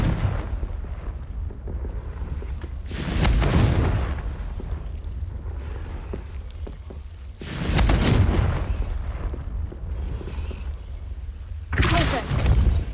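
Confringo fire spell blasts in Hogwarts Legacy, three loud booming bursts spaced several seconds apart over a steady background rumble, with a voice speaking between them.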